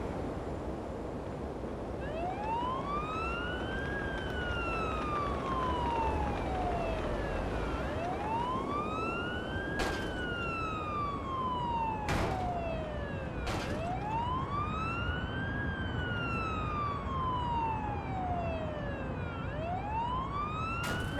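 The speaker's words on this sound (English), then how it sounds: "Use the siren as needed." Ambulance siren from Ambulance Life: A Paramedic Simulator wailing in slow rising and falling sweeps, repeating steadily over a low engine rumble, with a few sharp clicks between cycles.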